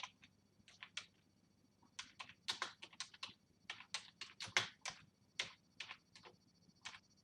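Someone types on a computer keyboard nearby, a quiet, uneven string of crisp key clicks in small bursts against a low hum, with no talking.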